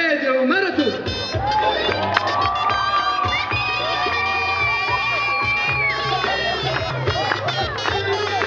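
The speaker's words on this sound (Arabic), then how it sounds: "سقفه يا جدعان، سقفه يا جدعان." Crowd at a comedic upper Egypt dance show at a Global Village event in Qatar, cheering and shouting loudly and continuously throughout, with clapping and voices mixed into a dense, steady roar.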